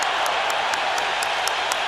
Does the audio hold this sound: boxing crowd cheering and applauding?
yes